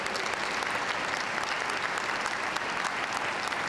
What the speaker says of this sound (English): This moment was met with rapturous applause from the packed arena